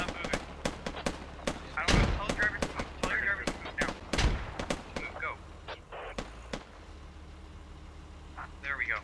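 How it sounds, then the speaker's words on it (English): Rapid machine gun bursts rattle through a video game battle, with many sharp cracks in fast irregular strings and a few heavier booming impacts, mostly under someone talking. "Getting shot at by MGs."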